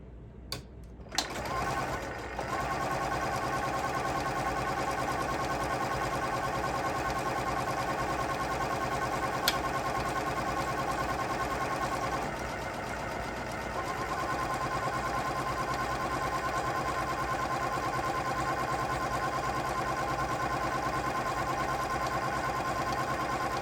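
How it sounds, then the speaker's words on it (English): A sewing machine stitches along drawn lines on a tote bag, running in a steady, loud continuous whir after a few brief starting clicks, with a short slowdown midway. "I'm just going to sew along those lines."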